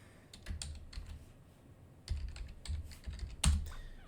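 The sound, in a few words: typing password on computer keyboard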